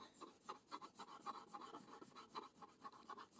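An oil pastel, thick and creamy like a crayon, rubs back and forth on paper in quick, rhythmic scratchy strokes, faint and close with no talking.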